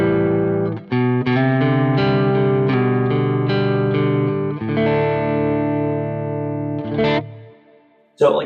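An electric guitar runs through the Amazing Boogie Lone Star amp model on a Quad Cortex with an exotic boost, giving an edge-of-breakup tone: a run of clear plucked notes and chords, then a ringing sustain that fades before a final strum.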